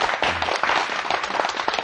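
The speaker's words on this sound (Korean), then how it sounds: "박수." Studio audience at a televised math lesson breaks into steady, dense clapping, a lively burst of applause lasting throughout, with a brief low voice murmur near the start.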